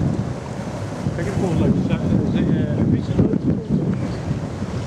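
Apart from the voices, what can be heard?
waves from a passing ship's wake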